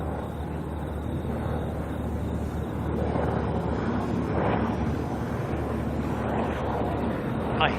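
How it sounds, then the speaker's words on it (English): A helicopter flies near Auckland Airport, a steady broadband rotor and engine rumble that swells slightly partway through, heard from a distance outdoors with some wind noise and no talk. "I hear a helicopter."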